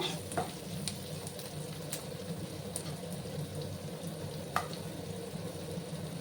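Chopped tomato tossed into a hot frying pan for a puffed rice snack, giving a continuous close sizzle with intermittent stirring scrapes and light clinks of the utensil.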